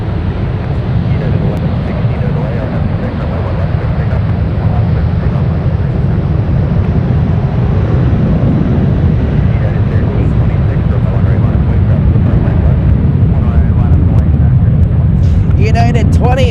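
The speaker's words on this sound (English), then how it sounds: "That plane, 737-800 next generation. Landing on 28 right." A Boeing 737-800 Next Generation landing on runway 28 right at San Francisco rumbles loud and continuous in the distance, a broad jet roar running throughout while someone talks over it.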